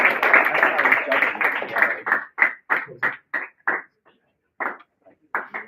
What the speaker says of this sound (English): And we give a round of applause to Mr.